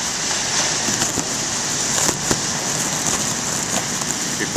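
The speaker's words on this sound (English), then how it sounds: "it's just drizzling right now." Light drizzling rain falls at a beach with big surf, a soft continuous hiss with scattered faint crackles and taps, close and steady, with no voices.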